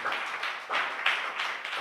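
A church congregation clapping hands together in steady, rhythmic unison, a broad wash of claps rising and falling in repeated beats, fairly close and with no voices.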